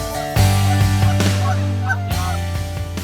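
Geese calling during an Ontario waterfowl hunt, several honks rising over a steady low hum, fairly close and loud.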